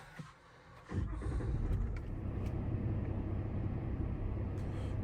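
A car engine starts with a short crank, then settles into a steady, loud idling rumble as it begins warming up, heard up close with no talk.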